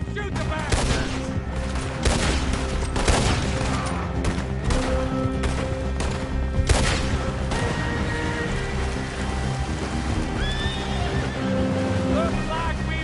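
A frontier shootout in Red Dead Redemption 2 unloads rapid, dense gunfire with repeated sharp cracks close by, horses whinnying amid the fray and shouting voices mixed in, firing thinning toward the end.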